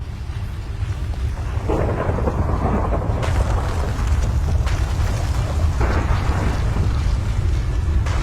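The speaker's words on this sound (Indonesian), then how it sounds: "Dan ditambah lagi hujan beserta petir yang membuat suasana semakin mencekam." Minecraft rainstorm: a steady heavy downpour with deep rolling thunder rumbling in and swelling partway through, loud and continuous.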